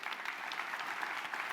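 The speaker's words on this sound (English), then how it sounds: "Huge round of applause for Brendan Walker." Steady applause from a conference audience after a talk at an expo, a dense patter of many hands clapping without a break.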